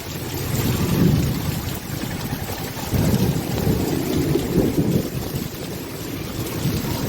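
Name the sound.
heavy rain with thunder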